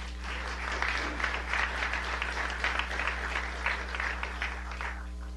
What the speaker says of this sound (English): Jesse, just stand and let us applaud you.